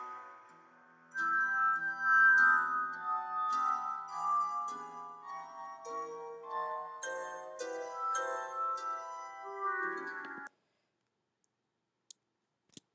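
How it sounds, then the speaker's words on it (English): Glass bowls played as musical instruments ring out a bright, sustained melodic run of clear chiming tones that stops abruptly, followed by near silence with a couple of faint clicks. "Those are actually glass bowls that he's playing."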